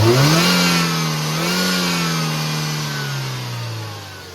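A 2017 Ford Figo Aspire Titanium car engine is revved on the accelerator, its steady mid-pitched drone swelling and easing in a couple of smooth rises before settling lower, close and clear with no talk.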